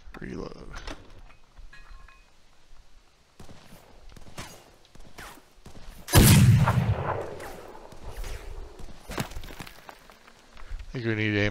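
A single loud cannon blast booms in the video game Heat, among scattered game sound effects and sharp clicks, with quieter stretches before and after.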